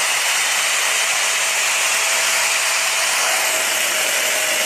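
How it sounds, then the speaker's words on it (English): A Shark Navigator Lift-Away vacuum runs with its hose opening covered, so air rushes in around a loose dustbin gasket as a loud, steady, unbroken hiss that stays constant throughout. "once again it uses suction as air rushes in around that gasket that comes loose"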